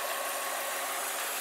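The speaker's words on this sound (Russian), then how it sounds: "Так, мотор можешь заглушить? А то, может, нас слышно не будет." Engine of a Lada Vesta SW Cross idling, a steady, even mechanical hum and rumble with no change in pitch or level, close by and alone without talk.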